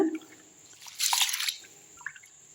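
Ration wheat grains being washed in water, a third rinse: soft drips and a brief swishing splash in the middle, close and fairly quiet, with no talking.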